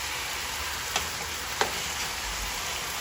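Turkey necks brown in a non-stick skillet, a dense, even sizzle of frying throughout with two brief clicks of a utensil moving them.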